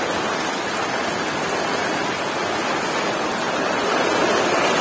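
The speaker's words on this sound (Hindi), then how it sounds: "इतना जोर से बारिश हो रहा है दोस्तों" Heavy rain pours down in a dense, loud, unbroken hiss that stays steady throughout, with no voices.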